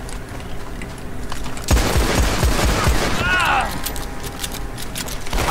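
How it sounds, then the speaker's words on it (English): Burst of game gunfire from a Red Dead Online shootout, rapid close shots starting abruptly and continuing for a couple of seconds with ringing tones, over background noise, no talk. "How can I not shoot you when you shoot me? I just shot you faster, bro."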